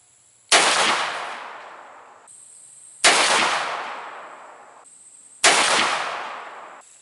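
Three loud, close gunshots from a 14-inch-barrel Ruger Old Army revolver, spaced about two and a half seconds apart, each a sharp crack with a long ringing decay.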